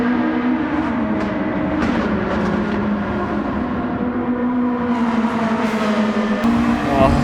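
Race cars battle side by side for the lead in Gran Turismo 7, with a steady, loud engine drone, gear-shift surges, occasional tire squeal and cars sweeping past.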